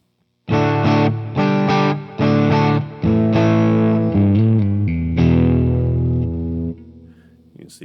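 Distorted electric guitar in a double-cut body with P-Rail pickups, bridge and middle selected, strumming several loud chords with short gaps, then a held chord ringing out and fading alone.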